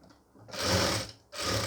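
A sewing machine stitches a pleated nightie in two bursts of fast, rattling whirring, each running roughly three-quarters of a second, separated by a brief pause, close and loud.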